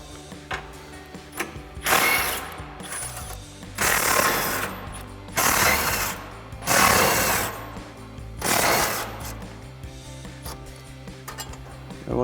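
Impact wrench with a 13 mm socket removing bolts during a fog light install on a 2019-2024 RAM 2500, giving several loud buzzing bursts of one to two seconds each, separated by quieter gaps.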